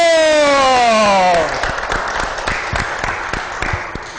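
A seated audience at a round-table talk session breaks into applause: a steady patter of claps at moderate distance follows a fading rising tone.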